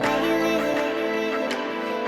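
A music sample run through a Follow Me delay preset on an MPC Live 2, dense and sustained with echoing repeats smearing the notes together, loud and steady throughout with no voices.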